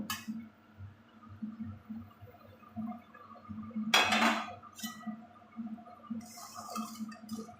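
Small puti fish tipped into a cooking pot give a brief, bright splash and sizzle amid scattered clinks of utensils against the pot, with quieter scraping before and after.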